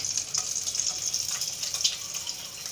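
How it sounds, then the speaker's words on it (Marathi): Eggs frying in hot oil for an egg masala curry, a bright, steady, close hiss and crackle that runs unbroken through the clip, with no voices. "तेल गरम झालेले आहे त्यामध्ये आता अंडे टाकून घ्यायचे"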